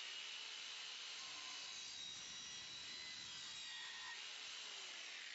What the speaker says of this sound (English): this is the best way to cut through copper